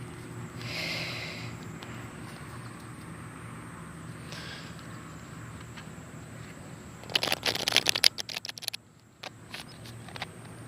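A quick burst of riffling tarot card shuffles, crisp and close, after a stretch of quiet room noise.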